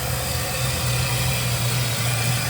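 An old barn-find car engine idling steadily, loud and close with a continuous low rumble and even vibration throughout, no voices.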